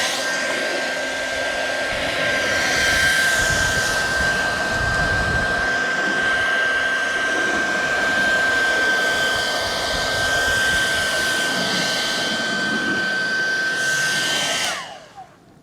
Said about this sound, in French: Voilà, pareil, coup de sèche-cheveux.